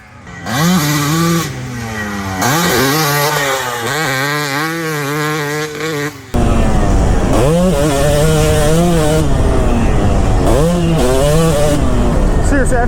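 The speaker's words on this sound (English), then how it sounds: "I don't know if there's anything better than just ripping on a two-stroke." A Kawasaki KX250 two-stroke dirt bike is ridden hard, its engine wailing and revving up and down through repeated rising and falling pitch sweeps, loud and close with wind noise, and no talking.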